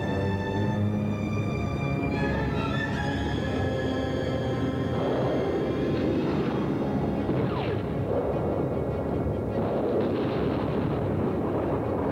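A dense, continuous barrage of naval ship cannon fire and amphibious tank guns, heavy gunfire and booming blasts, loud and rumbling throughout with overlapping shots and no pauses.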